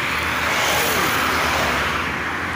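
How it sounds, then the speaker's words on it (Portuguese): Steady car traffic on Avenida Padre Cícero, a city avenue, forms a loud, continuous broadband roar of engines and tyres without a break. No one speaks. "movimento aqui dos carros"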